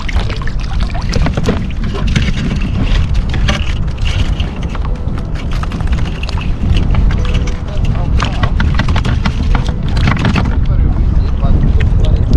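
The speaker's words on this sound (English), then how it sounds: "the wind's come up a bit" Strong seaside wind buffets the microphone during a crabbing outing, a constant loud roaring rush that persists throughout, with people's voices faintly present underneath.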